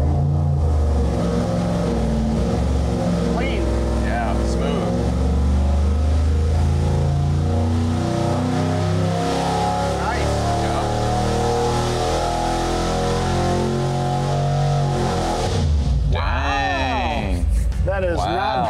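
A Hot Rod LQ9 V8 with a swapped cam runs on a dyno, its loud steady engine rumble filling the whole stretch with shifting tones before a brief rise and fall near the end, with people talking over it.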